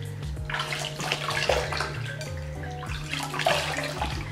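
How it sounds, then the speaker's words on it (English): Water splashing while someone rinses their face from a basin during a skincare routine, a continuous close run of sloshing and dripping with repeated scooping surges and no talking. "So here, I'm gonna rinse off everything."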